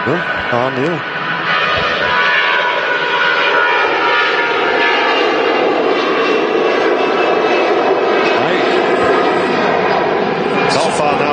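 A C-130 aircraft landing at Manchester Airport gives a loud, sustained propeller-engine roar that stays steady throughout, with people talking over it.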